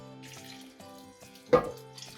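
Leftover tomato water is poured from a tin into a pan of vegan lasagne sauce, a quiet trickle building to one brief, clear splash about two-thirds of the way through.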